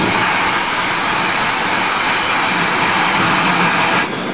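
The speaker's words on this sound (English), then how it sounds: "the sound of the steam piston is all around at the Antique Engine Museum in Vista, California" Working antique steam engines at a museum in Vista, California, with a steady, dense mechanical roar and hiss running continuously at close range, cutting off abruptly near the end.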